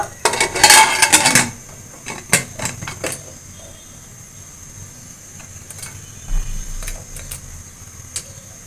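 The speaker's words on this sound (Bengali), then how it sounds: "এখন হচ্ছে ঢাকনাটা দিয়ে দিব" A lid goes onto a cooking pot holding egg pudding, with a burst of close metallic clattering and clinks at the start, then a few sharper knocks and light taps over a quiet background.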